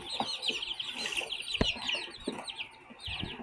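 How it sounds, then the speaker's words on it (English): Baby chicks chirp and cluck close by in a steady high twittering chorus, with a few sharper peeps and soft knocks mixed in. "But these are our little baby chicks."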